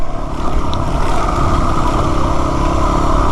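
A Yamaha WR250R motorcycle ridden along a trail in North Routt near Three Forks Ranch, its engine droning loud and steady with constant rumble and wind, close up and without a break.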